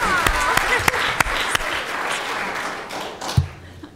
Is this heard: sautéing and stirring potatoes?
no